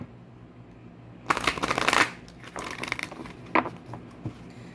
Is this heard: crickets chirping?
no